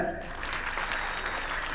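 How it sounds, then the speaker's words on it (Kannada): A crowd claps loudly and steadily at a film title teaser release event, a dense, even wash of applause with voices mixed in. "ಜೋರ್ ಚಪ್ಪಾಳೆ"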